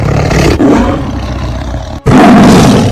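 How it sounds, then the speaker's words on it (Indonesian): Two tigers roar loudly as they leap out of hiding, a thick, sustained growling roar that dips briefly in a short gap before surging back even louder. "kedua ekor harimau itu telah meloncat keluar dari persembunyiannya sambil mengaum keras sekali"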